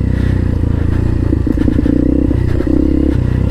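A trail motorcycle climbs uphill, its engine chugging loud and close in low gear, with rattling clatter and scraping from the rough ground.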